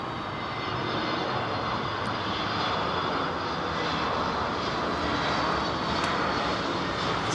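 Engines of an Airbus A321neo at London Heathrow give out a loud, sustained jet roar, dense and even throughout with a slight rise toward the end, and no talking.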